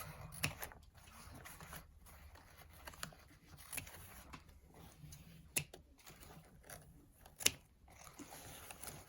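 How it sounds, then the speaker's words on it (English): Scissors cutting the tails of black and white ribbon on a magnolia wreath bow: a few faint, sparse snips and clicks, quiet and close, with no talking. "Cut all those tails."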